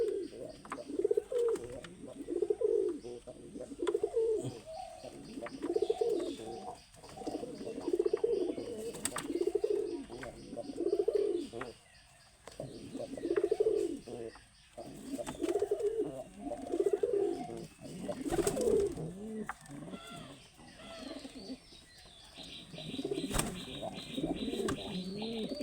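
Large domestic pigeons coo in a rhythmic, repeated chorus close by, the throaty calls swelling and fading in waves, with occasional clicks and brief wing or cage noises.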